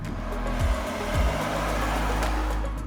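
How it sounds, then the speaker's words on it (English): A steady low tire hum and road rumble on a coarse road fill the clip from inside a 2025 BMW iX1 LWB, with a couple of brief deeper swells, no voices. "there's a little bit of a hum from the tires"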